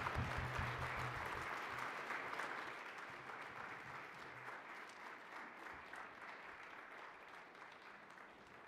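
A lecture audience claps to welcome Professor James Ogude at the 2023 ASR Distinguished Lecture, steady sustained applause from a sizable crowd that slowly tapers without fully stopping.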